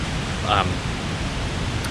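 Continuous rush of river water and a waterfall fills the scene, a steady broadband roar with no breaks and a brief faint higher sound partway through.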